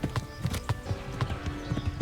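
A horse's hooves clip-clopping in Kingdom Come Deliverance, a fast, even run of close hoofbeats on firm ground with no talk over them.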